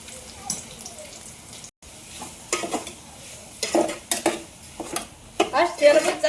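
Soybeans frying in a generous amount of oil in a pan over lowered gas, with intermittent scraping and stirring clatters against the pan and soft sizzling underneath.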